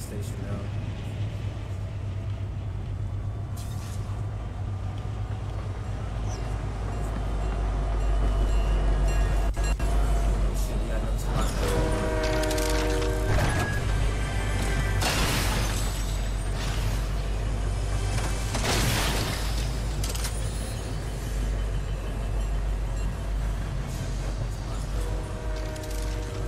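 Train rolling through a station in the video game Fortnite, a steady loud mechanical rumble with creaks and clanks throughout, while players talk over it.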